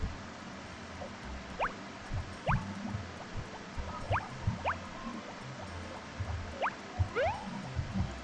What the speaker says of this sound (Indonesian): Kita siram lagi.